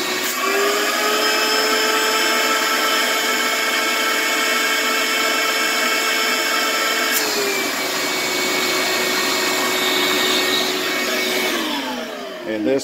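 Vacuum cleaner motor running steadily and loud throughout, its whine shifting in pitch as the airflow is blocked and then opened again, with a brief dip near the end.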